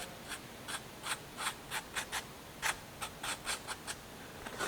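A marker or scribe is drawn across scrap steel to outline a rough radius during an electric power steering conversion on a 2004 Lexus IS300. Crisp scratchy strokes arrive about a dozen times in an uneven rhythm, close and fairly quiet, with no speech.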